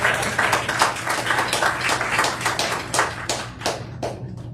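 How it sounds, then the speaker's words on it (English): Applause at a school board meeting: many hands clapping in a dense, steady patter that carries on without pause and thins slightly toward the end, with no talking. "Another round of applause."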